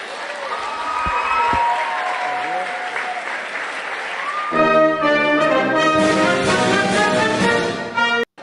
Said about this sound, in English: There's people clapping for that.